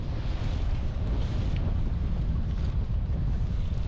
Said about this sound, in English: the wind is picking up pretty good. It is blowing pretty hard.